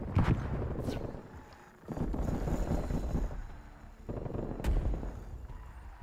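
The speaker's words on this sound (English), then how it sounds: "Shot him in the hip, but he didn't die. Shot him in the face, he didn't die." Video game gunfire: a few sharp, separate shots ring out against a rough, windy background, one near the start and another late, with muffled talk in between.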